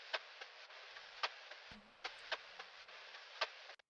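A texture loop from the avant-garde sample pack in FL Studio, made of a soft hiss with recurring faint ticks and clicks at an uneven pace, quiet, with no voices.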